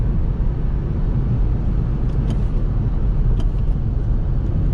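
A Lexus IS300 with a five-speed manual gearbox, heard from inside the cabin as a steady low engine drone and road rumble, continuous and fairly loud, with no obvious sharp rev spikes.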